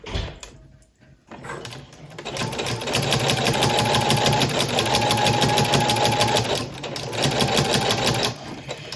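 Sewing machine with a walking foot stitching a test line, a fast steady mechanical whirring rattle starting after a brief pause, close and loud, running continuously with a short dip near the end.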